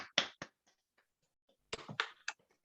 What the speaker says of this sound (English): give John a clap so he can hear it